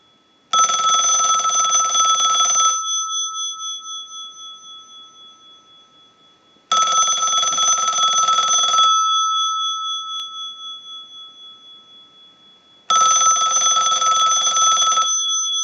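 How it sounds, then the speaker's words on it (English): An AT&T Signature Princess telephone's bell rings in three long, loud bursts of about two seconds each, set off by a line analyzer's ring cycle, with the ringing decaying through the silent gaps between bursts. "send a ring cycle like you were getting a call"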